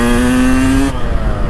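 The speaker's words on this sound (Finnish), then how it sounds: "Kuuletteko te, kuinka makosasti tää Kawasaki käy?" A Kawasaki KX250 dirt bike engine runs steadily at a constant tone for about a second before cutting to quieter rumble, loud and close.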